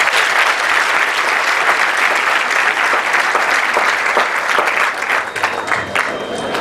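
Loud, dense applause from a large audience at a university graduation ceremony in Gonaïves, sustained clapping close by that thins slightly toward the end.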